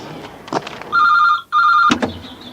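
An old bell telephone in a public phone box rings loudly in two sharp trilling bursts with a short gap between them, framed by thumps and clunks of movement.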